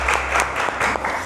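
Audience at a literary quiz show claps in a short, loud burst of applause, dense hand claps close by for just over a second.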